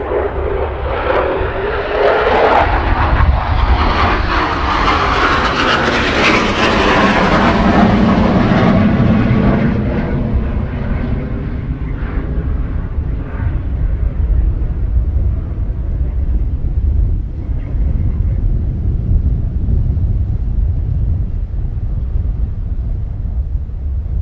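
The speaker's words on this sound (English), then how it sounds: "there it is, touch and go, or a low approach, or go around." A fixed-wing aircraft doing a touch and go at RAF Coningsby roars loudly, swelling over the first ten seconds as it passes, then fades into a steady distant drone, with heavy wind buffeting the microphone throughout.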